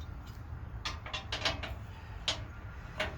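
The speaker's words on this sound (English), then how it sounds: "Just taking these bolts loose." Bolts are worked loose on a Dodge truck transmission crossmember, a string of quick ratcheting clicks in irregular bursts over a low steady mechanical hum.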